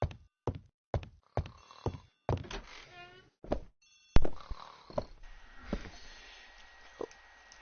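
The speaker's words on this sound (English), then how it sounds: "The telephone in the hall is ringing." A telephone in a hall rings in a series of sharp, repeated rattling bursts, regularly spaced at first, then louder and more jumbled, with faint clatter between rings.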